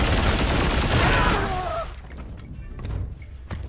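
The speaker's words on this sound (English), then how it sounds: "Opening fire." Gunfire in the turn-based game Warhammer 40k: Chaos Gate - Daemonhunters, a loud, dense volley of shots and booms lasting over a second, then dropping to scattered thumps and fainter impacts.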